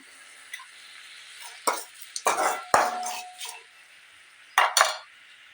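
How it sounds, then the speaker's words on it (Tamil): Tomatoes sauté in a softly sizzling pan while a utensil stirs and scrapes, with several clanks and knocks of metal against the pan's edge. "தக்காளி நல்லா வதங்கி வரணுங்க"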